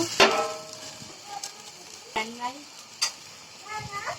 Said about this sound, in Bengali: মশলাটা দেওয়ার আগে আমি একটুখানি পানি দিয়ে দিচ্ছি